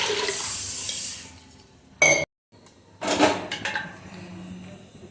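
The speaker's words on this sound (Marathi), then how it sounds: "इथे मी 2 तांबे पाणी शिजण्यासाठी टाकते" A vessel clanks against a metal pot, then water pours in with a brief rushing splash, followed by a short gap and a second gush, as two pots of water are added to mixed lentils for cooking.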